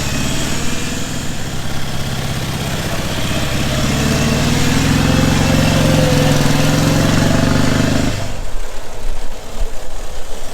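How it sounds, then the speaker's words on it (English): A 1927 Douglas Works race motorcycle rides through an entrance gateway, its engine a steady loud rasping drone with a deep pulsing beat that holds close for about eight seconds before cutting away to quieter background noise. "We have Malcolm riding down through the Campbellgate entrance just as he did 20 years ago."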